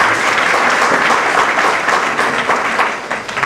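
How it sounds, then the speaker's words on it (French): Loud, sustained applause from an audience at a book signing for the novel 'L'incorrigible épouse et les hommes corrigés', steady and dense throughout before easing slightly at the end. "d'applaudir encore très fort, s'il vous plaît"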